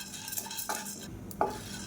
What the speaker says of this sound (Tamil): இப்போ இதையும் சேர்த்து நல்லா வறுத்துக்கலாம்.